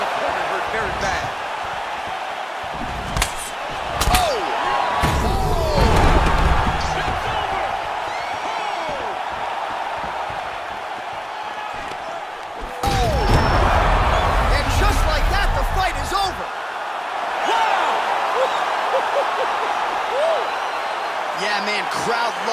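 A crowd cheers and roars in an EA Sports UFC fight arena, swelling into loud surges of noise, with thuds and commentators talking throughout.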